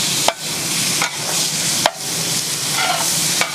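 Ginger, garlic, shallots and tomato sautéing in a pan, a steady loud sizzle broken by a few sharp clatters of stirring, with rain falling in the background.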